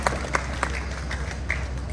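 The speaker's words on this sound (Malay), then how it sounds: "Sekali lagi berikan tepukan yang paling hebat untuk Syahmi Sazli." An audience applauds Syahmi Sazli at an evening event in Kota Bharu, Kelantan, where the YouTuber gathered veteran artists; a steady wash of crowd clapping with a few sharper, closer claps standing out.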